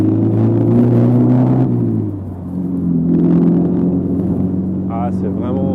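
A Triumph TR4A sports car drives along with a loud, low engine drone that dips briefly as it shifts, and a voice is heard partway through.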